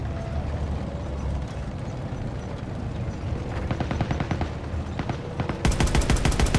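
Machine gun fire rattles through a Call of Duty WWII battle, sustained bursts over rumbling explosions and battlefield din, growing into a loud rapid stream of shots toward the end.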